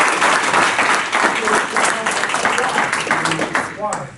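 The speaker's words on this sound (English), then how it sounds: "let's give him a round of applause" Loud, sustained applause from a crowd for a winning team, continuous dense clapping with voices talking and cheering underneath, tapering slightly toward the end.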